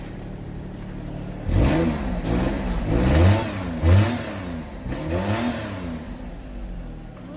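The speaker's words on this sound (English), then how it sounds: "It is definitely a playful little exhaust." A Honda Beat's small engine revs through a playful exhaust in four or five rising and falling blips over a steady idle, close by, with a brief voice at the start.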